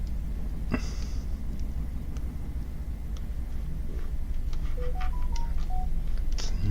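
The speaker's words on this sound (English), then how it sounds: "That was my phone just signaling that I'm Poppasteves live" A phone notification signal, a short series of electronic beeps and tones heard faintly over a steady low background rumble, with no talking.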